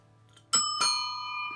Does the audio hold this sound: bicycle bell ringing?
yes